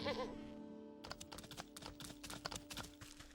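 Goat bleating in the video game Wytchwood, a brief wavering cry at the start over steady game music, followed by a run of quick, sharp clicking and tapping sounds.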